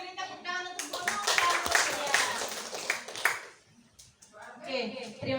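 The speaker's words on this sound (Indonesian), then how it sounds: "beri tepuk tangan untuk Bu Nur" An audience claps for Bu Nur at a positive-culture training session: dense, steady applause builds for a few seconds, then fades, and voices pick up again at the end.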